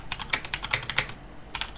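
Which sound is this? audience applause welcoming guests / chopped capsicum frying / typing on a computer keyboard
typing on a computer keyboard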